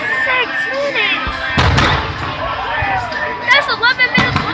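Fireworks going off at a Papa John's fireworks show: sharp booms burst out twice amid steady crowd chatter and voices, one heavy blast near the middle and another cluster of cracks toward the end.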